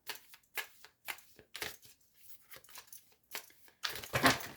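Tarot cards are shuffled close up, a series of quick riffling and flicking bursts separated by short pauses, ending in a louder, longer rustle.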